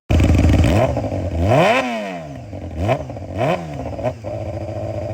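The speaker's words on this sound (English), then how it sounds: "I'll put a clip in of what the straight pipe sounds like." A loud motorcycle with a straight pipe exhaust revs hard several times, each blast climbing in pitch and dropping back to a rough, crackling idle, close by.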